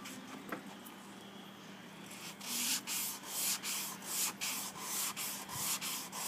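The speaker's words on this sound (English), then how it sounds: "So what we're going to do is we're going to take and sand some more." Hand sanding of blocking primer on a body panel, a steady run of rhythmic abrasive strokes that grows louder and more regular after a quieter start, close and alone without talk.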